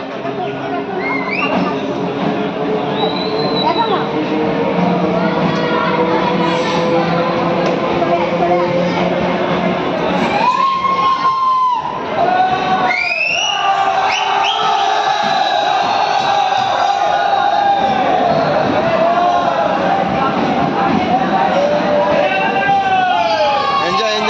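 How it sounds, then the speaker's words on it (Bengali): A dense crowd fills a busy railway station at Namkhana during Eid, loud voices and shouts overlapping continuously, with a brief whistle-like tone and a short dip in the din midway. "শুধু দেখো নামখানা স্টেশনে ভিড়, দেখো ট্রেনে।"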